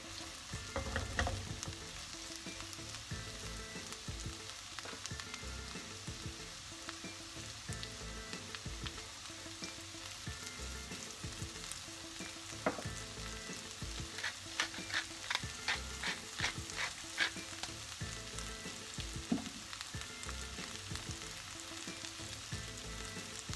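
Sliced mushrooms frying in olive oil, a steady dense sizzle and crackle throughout, with occasional sharper pops and stirring clicks, close and alone with no talk.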